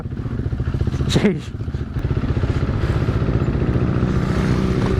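A 2016 KTM Duke 390 single-cylinder motorcycle riding in a group, its engine drumming steadily close by with a brief rising whine and dip near the start, while a rider briefly exclaims.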